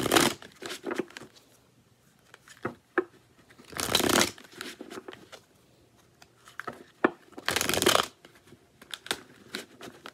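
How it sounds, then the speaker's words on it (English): A tarot deck is shuffled close by. Two loud riffling bursts stand out among softer card taps, slides and handling noises, with no voices. "Let's cut the deck and see what's going on."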